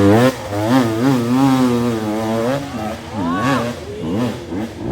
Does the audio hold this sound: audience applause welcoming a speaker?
no